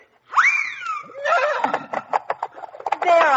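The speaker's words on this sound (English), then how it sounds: "There are your 6 dancing white horses." Horse whinnies in a radio play, loud close neighing with rising and falling pitch, then a burst of rapid clip-clop hoofbeats and a second whinny near the end, with no talk over them.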